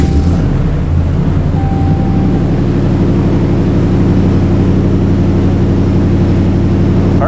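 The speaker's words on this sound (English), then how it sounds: "I'm gonna let it idle for a little bit, make sure everything's good." A Ram 2500 pickup with the 6.4L HEMI V8 idles steadily after a fuel injector replacement, a loud continuous low engine rumble with a faint tonal whine, running alone without talk.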